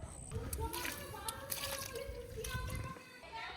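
Water poured from a container onto the soil around a newly planted lemon tree in a garden, trickling and splashing steadily while people talk nearby.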